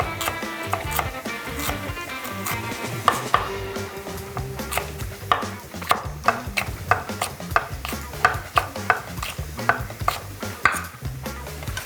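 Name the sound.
knife cutting red bell pepper lengthwise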